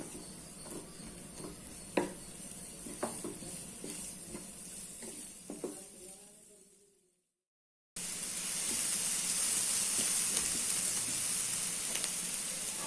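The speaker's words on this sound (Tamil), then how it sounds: "இதை போட்டு ஃபர்ஸ்ட் நல்லா வதக்கிக்கலாம்" Chopped onion and curry leaves sautéing in a pan for potato soya masala: a steady sizzle with scattered clicks from stirring for several seconds, then a short break, then a louder, denser frying hiss.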